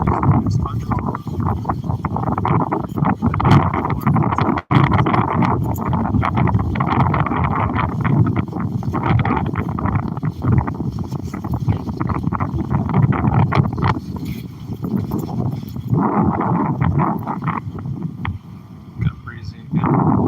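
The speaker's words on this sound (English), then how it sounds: "Got breezy again." Breezy wind buffets the microphone outdoors at DuBois Park in Jupiter, Florida, a steady loud rush lasting throughout, with people talking intermittently over it.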